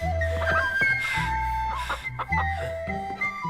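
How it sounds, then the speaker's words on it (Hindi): A rooster in a Chinese fantasy action film clucks in a run of short, fairly close calls over a busy music-like background. "युनगोंगजी, मुझे मुर्गा पकड़ने दीजिए"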